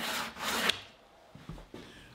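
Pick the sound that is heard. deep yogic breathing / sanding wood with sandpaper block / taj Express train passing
sanding wood with sandpaper block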